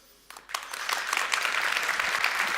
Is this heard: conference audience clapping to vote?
yes